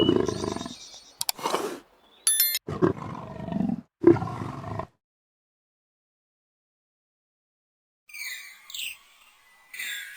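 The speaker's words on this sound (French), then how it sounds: "Avec un rugissement retentissant, le jeune homme déclara son pouvoir" A lion in the wild Okavango lets out several deep, rough roars in close succession, loud and near, followed by a quiet pause and then faint bird calls chirping in the distance.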